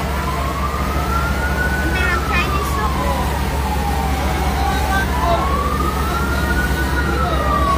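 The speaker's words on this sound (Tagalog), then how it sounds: "Nasa na umabot nga fire truck karon nga panahon na" Fire truck siren arriving at a house fire on E. Luna Street in Butuan City, loud and close, its wailing tone rising and falling in slow sweeps while people talk nearby.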